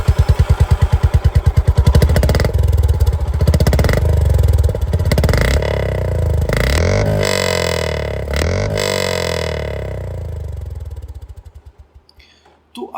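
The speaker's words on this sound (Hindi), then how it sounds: "यहाँ पर इसको भी ऑन करते हैं और आवाज़ आप लोग यहाँ पर CB350 की भी सुन लीजिए" A Honda CB350 motorcycle engine runs at idle close by, with a steady thumping single-cylinder beat and several blips of the throttle. Its loudness dips and rises, then the engine cuts off near the end.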